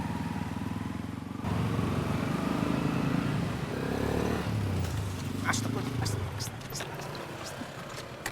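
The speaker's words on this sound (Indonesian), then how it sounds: "Bawa motor harus hati-hati, Tis." A motorcycle rides past, its engine rising to a steady close drone and then fading, followed by scattered clicks and knocks nearby.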